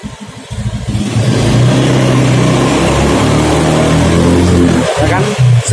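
Honda Beat FI scooter engine with a faulty throttle position sensor, revving up loud and close, holding a sustained drone before dropping back, with short pauses at start and end.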